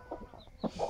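A hen with a freshly hatched chick beneath her and eggs still hatching gives a few soft, close clucks in under a second, quiet and muffled, with no talking.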